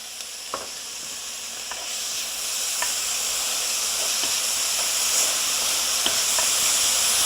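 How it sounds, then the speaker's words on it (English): Garlic and onions sizzle in a frying pan, a steady close hiss of frying that builds slightly, with a few faint taps and stirs and no talking. "I'm gonna plop in the garlic in there."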